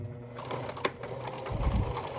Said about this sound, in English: I'm going to sew on the pin marks. I'm going to do a back stitch.